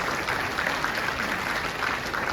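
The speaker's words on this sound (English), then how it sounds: "give them a round of" A seated audience at a formal speech event gives a sustained round of applause, a steady, dense wash of clapping at even loudness throughout with no voices on top.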